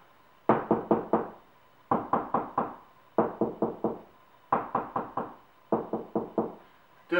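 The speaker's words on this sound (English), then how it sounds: "you kind of tap with equal force, because you can change the pitch the harder you tap" Knuckle raps on drywall come in quick groups of about four to five knocks, five bursts with short pauses between, hollow and close, no voices.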